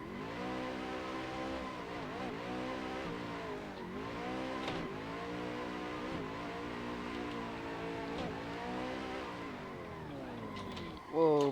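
A drift car's engine revs hard and repeatedly, rising and falling in pitch through a series of throttle blips and slides, loud and close, with tire noise and a sharp burst near the end.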